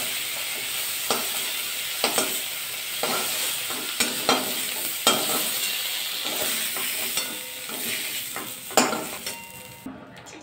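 Cauliflower fries in a wok, a constant close sizzle punctuated by sharp, repeated scraping and clinking strokes of a spatula stirring at irregular intervals, with no talking.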